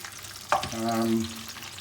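Onions drop into a hot pan for a spicy Mexican vegetable curry, a sudden close sizzle that rises and settles into steady frying over the brief moment.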